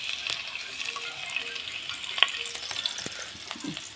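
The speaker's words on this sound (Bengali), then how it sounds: "শুকনো লঙ্কাটা ফোড়ন দিয়ে দিলাম" Dry red chilies tempering in a little hot oil give a steady, fine sizzle with occasional pops and light clatter, close and moderately loud, with no voices.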